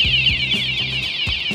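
Anti-theft alarm sensor for a campervan sounding alone and loud, a piercing high warbling electronic siren tone repeating steadily throughout.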